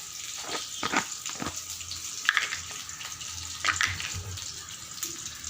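Green chillies fry in hot oil in a pan, a steady close sizzle broken by clinks of a spoon or spatula against the pan.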